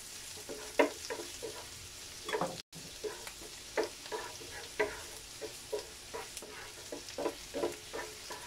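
Garlic sautés in a pan with a quiet, steady sizzle broken by repeated light scrapes and taps of a spatula stirring at an uneven rhythm; close and faint, with no talking.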